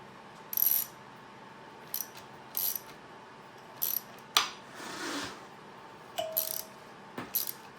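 A ratchet on a 10 mm socket with a universal joint tightens a bolt while a GYTR fan is fitted to a 2025 Yamaha YZ250FX dirt bike, giving short bursts of clicking separated by pauses, close and fairly quiet, with no talking.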